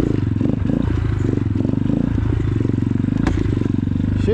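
An X-PRO Titan 250cc dirt bike runs on a slippery gravel and rock trail, its engine a steady rattling putter close by, with clattering knocks from the rough ground and no talk.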